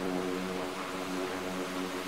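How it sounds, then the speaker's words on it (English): A VTOL jet aircraft in the Roblox flight game PTFS, a steady loud engine drone with a low humming tone that holds unchanged throughout, with no talking. "Yeah, that VTOL jet is coming after us."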